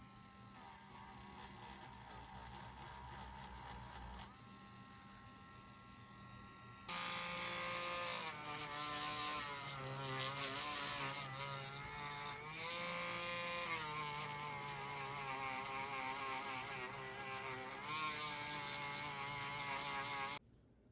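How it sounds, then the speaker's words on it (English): A Dremel rotary tool fitted with a wire brush scours die-cast metal parts of a Matchbox King Size K13 cement truck, a steady high-pitched whine and buzz running continuously, dipping briefly in pitch before resuming louder and closer. "So I'll get the Dremel going, the wire brush, and we'll try and get them all nice and shiny, ready for primer."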